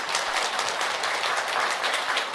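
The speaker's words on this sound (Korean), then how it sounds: "법산 대종사님께 큰 박수 다시 한번 부탁드리겠습니다" A temple audience applauds after a Buddhist monk's dharma talk at a Jijang day service, a steady, dense wash of many hands clapping that fills the hall without a break.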